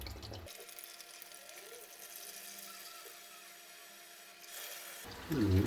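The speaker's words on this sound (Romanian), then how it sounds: "Am pornit și robinetul de la chiuvetă." Water running from a sink tap into a tank, a steady, soft gushing rush close by that swells near the end, ending in a brief louder knock.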